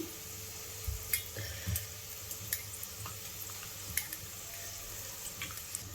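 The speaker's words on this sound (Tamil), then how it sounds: "பொடிகள் இருந்த இடம் தெரியாமல் கலக்கிவிடவும்." Spice powders stirred into one-pot rasa rice, a spoon scraping and tapping the pot in irregular close clicks over a low simmering sizzle, with no talking.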